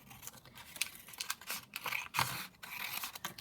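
Scissors snipping through paper for a handmade junk journal, a handful of close, dry cuts and crinkles spread unevenly across a few seconds of quiet room sound.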